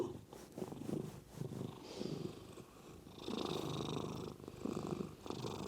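A pet cat named Tatters purrs steadily up close, a low rhythmic rumble that swells and eases with each breath, continuing without pause throughout.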